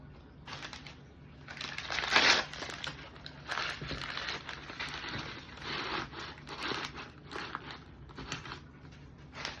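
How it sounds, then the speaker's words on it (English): Paper is pushed and rustled around a small gift tin while a DIY gift is put together. Close, uneven crinkling and scraping come in bursts with short pauses. "Push the paper"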